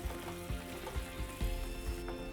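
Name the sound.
khaman dhokla tempering water with sugar boiling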